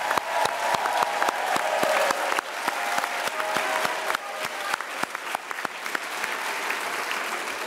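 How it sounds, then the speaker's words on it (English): Loud, sustained applause from an auditorium audience cheering the graduating medical class of 2019 at a Match Day ceremony, crisp overlapping claps that stay strong before slowly thinning out. "First of all, can I get a round of applause for the class of 2019?"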